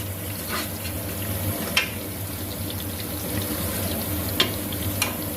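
Coriander powder and other spices frying in a pan for chicken haleem, a steady close sizzle with a few sharp clicks from stirring against the pan.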